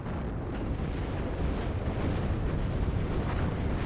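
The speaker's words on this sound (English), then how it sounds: "Taking mortar fire, taking fire from the tanks." Mortar and tank fire explosions in the video game WARNO form a dense, continuous rumble of overlapping booms and bursts, heavy and sustained with no pauses.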